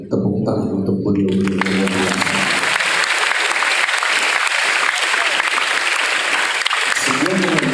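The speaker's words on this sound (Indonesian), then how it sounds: "Tepuk tangan untuk beliau." Applause rises from the audience at an Islamic family gathering, a loud, dense wash of clapping that swells after a voice and music and carries on steadily for several seconds before fading as music returns.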